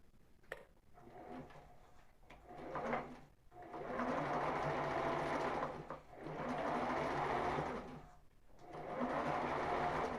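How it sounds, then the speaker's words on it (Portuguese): Sewing machine running a zigzag stitch on ribbed knit fabric for a tank top, rattling in three sustained bursts separated by brief pauses, close and alone. "Então, vamos passar o zigue-zague."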